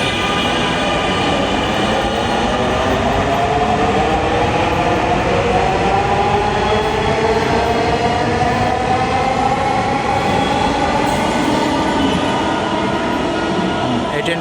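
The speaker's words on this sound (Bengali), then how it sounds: "এই ট্রেনটি ছেড়ে গেল উত্তরার দিকে।" A metro train pulls out of an elevated station heading towards Uttara, a loud continuous rumble and electric whine that rises in pitch as it gathers speed, filling the whole stretch.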